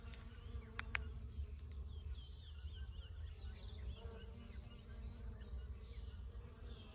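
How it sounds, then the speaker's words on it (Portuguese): Faint, steady buzzing of bees working a flower bed on a rural smallholding, a quiet outdoor hum with occasional soft clicks and distant bird calls. "se ficar em silêncio dá para escutar as abelhas, o zum zum das abelhas"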